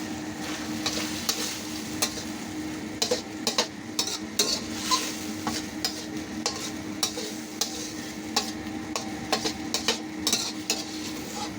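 Sliced okra sizzles and stir-fries with sardines in a pan, a steady frying hiss under frequent clicks and scrapes of a utensil against the pan.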